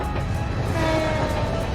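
A train in the video game Trails to Azure, passing Crossbell's eastern outskirts near Tangram Hill, makes a steady rolling rumble with a sustained horn-like tone drifting through the middle, close and continuous.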